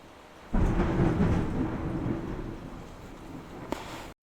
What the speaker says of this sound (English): Oh man, that was some loud thunder.